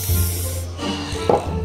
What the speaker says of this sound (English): We're going to spray the bike black and we're going to splash it with orange and also turquoise.